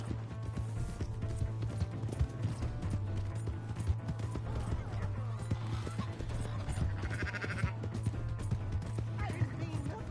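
Horse hooves clip-clop at a steady trot in Red Dead Redemption II, set against a dense layer of game ambience and background activity, fairly faint overall.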